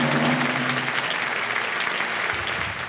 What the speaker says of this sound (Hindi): ताली बज रही है पहले से ही